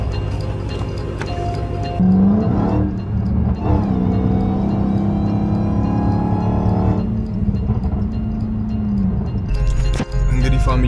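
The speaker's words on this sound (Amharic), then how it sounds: "ወደ ጂም የምንሄደው መኪና ነው ፋሚሊ።" A car drives along on the way to a gym, its engine humming and revving steadily with a rise in pitch midway, while voices talk over the cabin noise.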